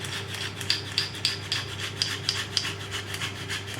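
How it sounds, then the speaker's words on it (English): A clove of garlic is grated by hand on a kitchen grater for homemade garlic bread, giving slow, evenly spaced rasping scrapes, roughly two per second, close and moderately quiet with no voices. "then I'm literally just going to grate"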